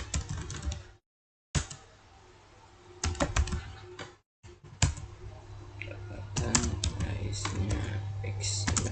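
Fingers type on a computer keyboard in quick bursts of clicking keystrokes, close and clear, broken by two brief silent gaps and a low steady hum underneath.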